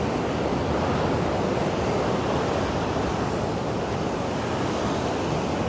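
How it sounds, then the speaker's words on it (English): Rough sea surf pounds steadily against Margate Pier, a dense unbroken roar of breaking waves with wind buffeting the microphone and no voices. "Listen to the sound of these waves."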